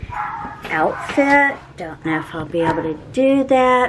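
A dog barks and yips excitedly in short bursts close by, overlapping a person speaking.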